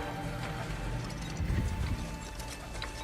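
Horse hooves clip-clop steadily in the God of War video game, a continuous mid-level walking rhythm over game ambience that swells a little near the middle.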